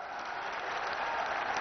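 Crowd applause welcoming the Prime Minister at a public event for the Rajasthan refinery in Barmer: a brief, steady wash of distant clapping, even and unbroken, with no voices over it.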